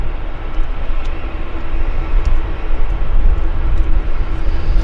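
Air Canada Boeing 787 Dreamliner heavy jet on Flight 342 to Ottawa at Vancouver Airport, a steady broadband engine roar with deep low rumble, sustained and fairly loud throughout with no talk.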